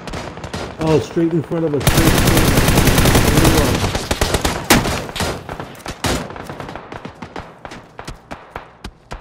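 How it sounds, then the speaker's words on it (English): Video game gunfire rattles in rapid machine-gun bursts and scattered single shots, loud and close, with a sustained volley in the middle and excited voices talking over it. "I'm being shot at."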